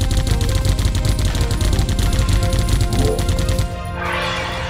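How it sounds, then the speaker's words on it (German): A magazine emptied in the shooter game Geist, a loud, close, rapid stream of automatic shots lasting several seconds before cutting off into quieter ambient game noise. "So kann ich ihm fast ein ganzes Magazin reinjagen."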